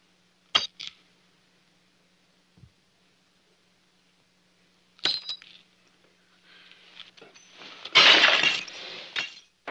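Drinking glasses smashed after a toast: two sharp single breaks a few seconds apart, a small clink, then a longer crash of shattering glass with tinkling fragments, loud and close, no speech.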